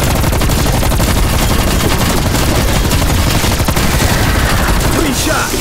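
Continuous loud gunfire in Black Ops Cold War zombies mode, rapid shots blurring into a dense, unbroken barrage from start to finish.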